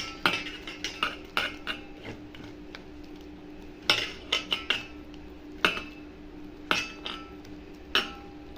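Gram flour batter is mixed in a bowl, with a utensil knocking against the sides in short bursts of sharp clinks and scrapes, separated by brief pauses.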